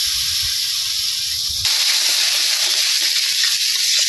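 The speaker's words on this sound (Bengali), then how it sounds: "আর হলুদ মরিচ গুঁড়া লবণ একসাথে কষিয়ে নিই" Onion, cumin and ginger paste fried with turmeric, chili powder and salt in a village kitchen, giving a steady hiss of sizzling oil that grows louder partway through and continues alone.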